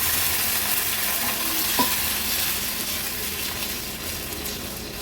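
Field bean dal is stirred and sautéed in masala in a pan for an Agri-Koli style veg dish, with a continuous soft sizzle and light scraping of the stirring throughout.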